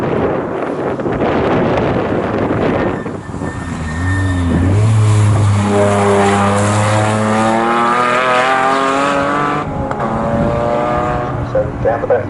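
Morgan Challenge race cars at Snetterton, loud engines revving and roaring past one after another with rising and falling pitch and heavy wind buffeting, while a commentator talks over them.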